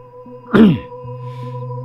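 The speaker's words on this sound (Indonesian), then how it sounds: "Tabib berdeham." A single short throat clearing by a man, close and abrupt, over a steady low electronic hum that continues before and after.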